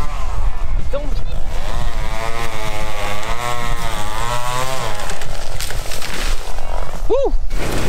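Chainsaw cutting into a tree on a farm, engine loud and close, roaring steadily with its pitch rising and falling as the blade bites into the wood.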